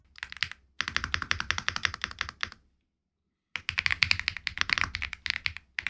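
A gasket-mount mechanical keyboard is typed on in two fast, dense bursts of crisp, close keystrokes separated by about a second of silence, with no voices.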